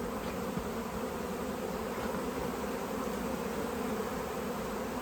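A dense, steady buzz of many bees returning to their hive fills the air continuously, loud and close, with no voices.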